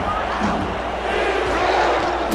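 A sellout stadium crowd at a football game roars steadily, loud and dense, with the near-goal-line excitement carrying on without a break.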